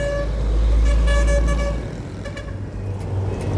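Large trucks roll past on a rural road, a loud, low engine rumble swelling close by and then easing off. Short horn toots sound over the traffic noise.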